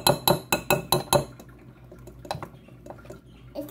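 Cupcake batter being mixed in a bowl, quick rhythmic clinks of a utensil against the bowl for about a second and a half, then softer scattered scrapes and taps close by.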